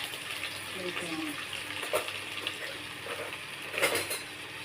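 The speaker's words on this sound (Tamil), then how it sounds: "பூண்டு போடுறேங்க" Garlic frying in a hot pan for a traditional dish, a steady low sizzle with occasional louder crackles and pops, fairly quiet and close, with faint background voice at times.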